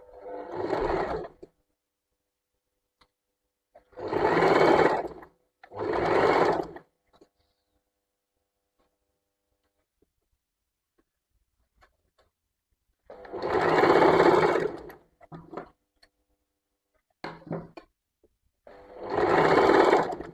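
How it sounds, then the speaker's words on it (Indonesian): Sewing machine stitching a small hem seam on a garment, running in several short bursts of about one to two seconds each, separated by quiet pauses. "kemudian dijahit lagi, dijahit kecil seperti ini"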